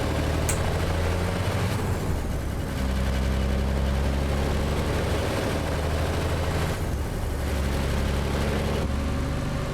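Steady heavy diesel rumble of a Kenworth K100 day cab truck with an 855 Cummins engine in American Truck Simulator, droning continuously at a fairly even pitch, loud and close, with no talking.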